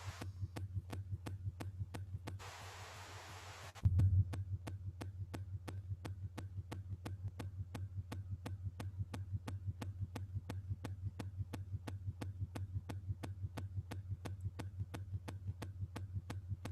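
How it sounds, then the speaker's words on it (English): Washing machine running through a cycle, a steady low hum with a regular throbbing pulse that continues at an even level from start to finish, joined briefly by a burst of hiss near the beginning. "Running a washing machine."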